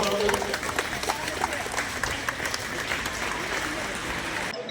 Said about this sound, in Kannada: ಎಲ್ಲರೂ ಜೋರಾಗಿ ಚಪ್ಪಾಳೆ ತಟ್ಟಿ ಅವರನ್ನು